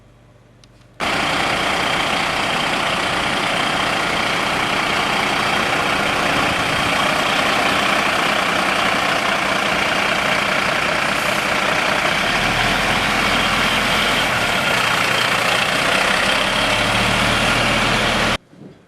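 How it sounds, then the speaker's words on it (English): A London fire engine's heavy engine rumbles at a steady idle, loud and close, starting abruptly and holding an even drone for about seventeen seconds before cutting off. "drive over it with a London fire engine"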